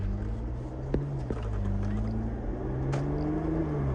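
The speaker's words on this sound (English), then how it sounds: "You know, the exhaust note, you can really hear that exhaust." Steady low engine drone of a 2018 Porsche Macan GTS exhaust with the exhaust button on, rising gradually in pitch as it accelerates, with a couple of faint clicks inside the cabin.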